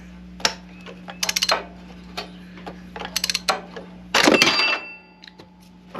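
A wrench works a tight plug loose on a Kubota tractor during an oil change, giving quick bursts of metallic ratcheting clicks, then a longer scraping grind near the end, all close and fairly quiet with a low hum underneath.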